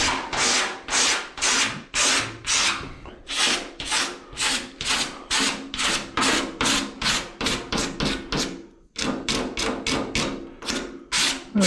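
A hand tool shaves high spots off a wooden surface in a steady run of about two dozen rhythmic rasping strokes, close and fairly loud, with a brief pause near the end and no talking.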